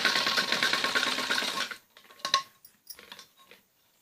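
A sewing machine stitching piping onto a kameez neckline runs in a fast, even burr for under two seconds, then stops, leaving a few soft clicks and taps of handling fabric.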